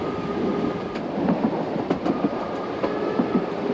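A train running over rails on a brand-new railway line, with a steady rumbling roll and soft rhythmic clicks of the wheels throughout.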